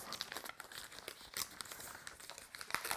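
A paper sheet is torn from a glued palette pad used for oil painting outdoors, a close crinkling, ripping rustle lasting a few seconds with uneven bursts.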